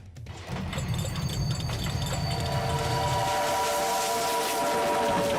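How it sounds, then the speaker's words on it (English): An imperial Russian train pulled by twin locomotives rushes at speed toward Kharkiv, a close, heavy rolling rumble that gives way to sustained whistle tones ringing over the steady clatter. "The train was running slightly late, so the driver picked up speed as they approached Kharkiv, reaching 70 kilometers per hour."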